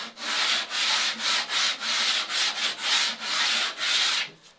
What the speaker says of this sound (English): So I'll take my sanding stick and just give it the once over like I was doing before.